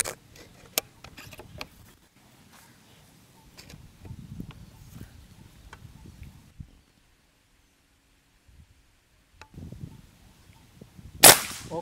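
A PCP Big Game ST New Series long air rifle fires a single sharp, loud crack near the end after soft scattered ticks and rustles, heard close with no talking.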